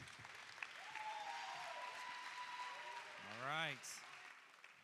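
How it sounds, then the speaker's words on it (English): A chapel audience gives a round of applause, soft and fairly distant clapping running steadily beneath a faint voice, with a brief rising vocal sound near the end. "let's give them a warm round of applause"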